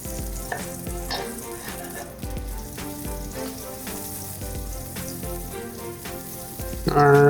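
Butter melts and sizzles steadily in a frying pan while being stirred, a close, continuous crackle with soft scraping and no talking.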